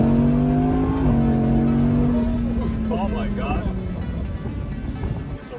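A 2020 Audi R8 V10 Performance Spyder revs at a dealership, its engine tone rising and then falling away in loud, steady harmonics, with people talking over it.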